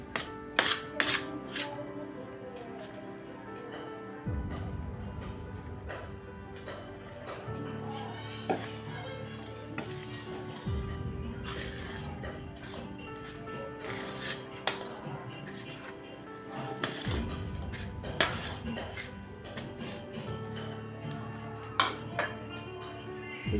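A spoon scrapes and clinks against a metal pot while wheat flour is worked into a cooled pumpkin mixture for gharya, with faint irregular taps and knocks over a low background hum.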